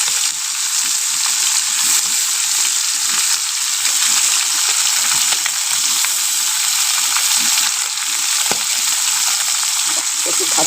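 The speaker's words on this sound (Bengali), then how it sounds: "আমেদি মাছগুলোকে এখন ভাজবো।" Fish rubbed with salt and turmeric fries in a pan, giving a loud, steady, close-up sizzle that crackles on without pause throughout.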